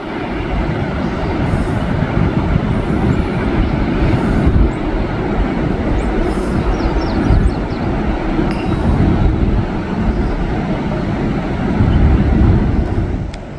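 A freight train with several locomotives rumbles past on the rails, a loud, continuous, dense roar of wheels and cars that holds steady throughout with no voices.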